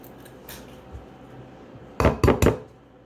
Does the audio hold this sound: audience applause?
no